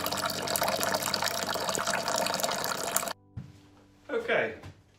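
Liquid from a rye whiskey mash drains out of a mash tun into a fermentation bucket, a loud, steady splashing rush that stops abruptly after about three seconds, followed by quieter handling noises.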